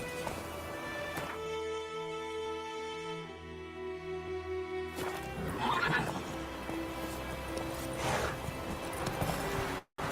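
A horse in The Witcher 3 neighs with long whinnies, then hoofbeats clatter in a gallop, close and clear over a quiet game music background.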